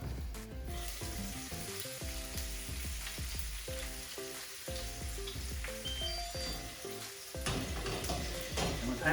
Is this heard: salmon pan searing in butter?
yes